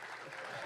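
A live comedy soccer show audience in Los Angeles bursts into dense, continuous applause and cheering, loud and sustained through the brief moment.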